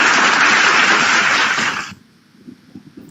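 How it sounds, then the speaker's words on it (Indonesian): A crowd at a religious talk claps in a dense, loud burst of applause that cuts off abruptly after about two seconds, leaving a quiet room with faint murmurs. "jangan pakai tepuk tangan kayak gitu dulu"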